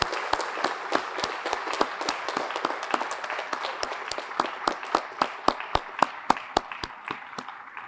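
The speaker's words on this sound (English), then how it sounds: "How about a round of applause for Jason Perez?" Banquet audience at a firefighters' awards dinner applauds a lieutenant, with steady scattered clapping that grows into sharper, louder individual claps near the end.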